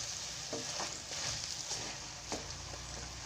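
Gentle bubbling sizzle of simmering chicken stew in coconut milk in a pot as papaya is stirred in, with soft scraping and clinks of the spoon, close and low in level.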